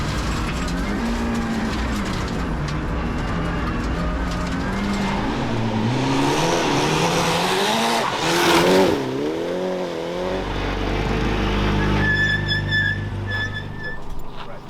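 A modified rally car accelerates along a track, its engine revving up and down in rising, wavering pitch sweeps, loud and steady, then dropping to a lower idle-like drone near the end.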